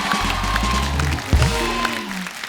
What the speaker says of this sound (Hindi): तापसी के लिए जोरदार तालियां।